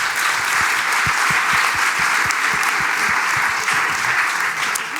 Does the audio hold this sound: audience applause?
yes